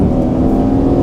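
Pontiac G8 engine pulling in sixth gear under added throttle, a steady, close low drone with a constant tone and no voices over it.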